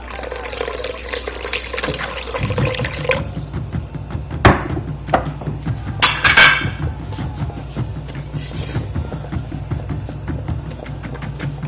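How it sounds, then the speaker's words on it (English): Tap water poured into a pot of quinoa on a stovetop, a steady running splash with a few sharp clinks of the pot, moderately close and with no talking. "And then I'm just going to add enough water."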